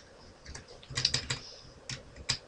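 Someone types on a computer keyboard, with a quick run of soft, close clicks, a pause, then a few more keystrokes and no talking.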